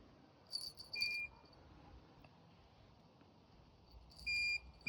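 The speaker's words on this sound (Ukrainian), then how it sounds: "сигналізатор, по-перше, видає сигнал звуковий, передає радіосигнал на приймач" An electronic fishing bite alarm emits two short bursts of high, piercing beeps, one near the start and one near the end, separated by a quiet indoor stretch.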